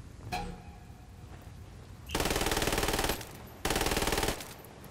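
Machine gun fire in Ghost Recon Wildlands sounds as two loud, close sustained bursts of rapid automatic shots, each about a second long, after a quieter stretch with a single earlier report.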